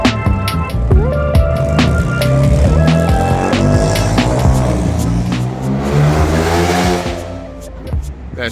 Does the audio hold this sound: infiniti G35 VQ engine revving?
yes